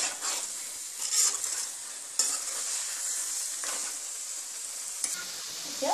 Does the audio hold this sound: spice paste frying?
yes